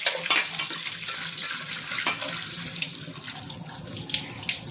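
Tap water streams steadily into a sink while prawns are washed, a close, constant rush broken by splashes and a few sharp clinks, with no one speaking.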